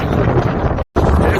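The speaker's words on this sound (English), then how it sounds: "it's very windy." Strong wind buffets the microphone at a coastal cliff lookout in Western Australia, a loud, continuous rumbling roar that cuts out for a split second, then returns.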